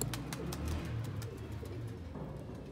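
Young pigeons cooing softly in a loft setting, with low repeated coos and faint background clicks and rustles throughout, fairly quiet and with no voice heard.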